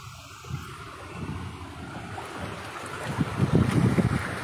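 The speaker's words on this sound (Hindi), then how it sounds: "जिस तरीके से ये पानी बह रहा है उससे ऐसे लगता है कि मानो कोई नदी बह रही हो" Rainwater rushing in a flood down a street after a short downpour, a steady low churning roar that grows louder and more turbulent, with wind buffeting the microphone and no voices.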